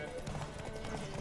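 Galloping horse hooves in a horse racing video game pound out a quick, muffled clip-clop rhythm, mixed in with voices.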